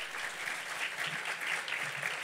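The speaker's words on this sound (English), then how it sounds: "Let's give them all a huge round of applause." Audience applause at a cancer assistance program gala, a dense steady patter of many hands clapping at moderate volume throughout.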